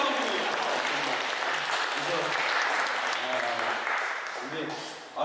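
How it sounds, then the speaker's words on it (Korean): A church congregation at a New York Korean church claps during a Sunday sermon, a soft, distant patter of applause under a speaking voice that thins out and fades near the end. "박수 한번 쳐주세요."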